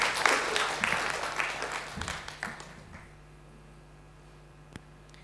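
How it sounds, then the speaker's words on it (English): A conference audience applauds after a presentation, with dense clapping that starts loud and steadily fades out over a few seconds, leaving only a faint room hum and one last stray clap. "Let's give a big hand of applause to Kwan."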